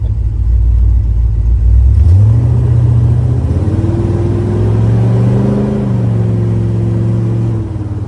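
A 1971 Chevrolet Corvette LS5 454 V8 engine hums steadily while driving, then revs up and settles into a smooth, close running drone with a low rumble.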